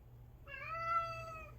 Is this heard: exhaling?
no